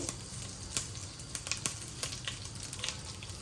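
Sesame seeds crackle in hot tempering oil for a Gujarati-style handvo, giving a soft frying hiss broken by frequent sharp little pops at close range.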